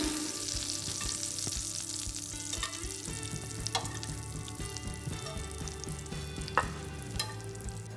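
Striploin steaks fry in a pan while being basted with butter, giving a steady close sizzle with scattered pops and spoon clinks throughout.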